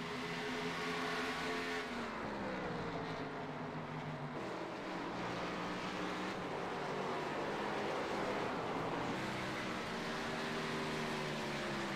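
Race cars roar steadily around a track during an auto race, with engine pitch rising and falling as cars pass and work through a corner, a continuous loud drone with no talk.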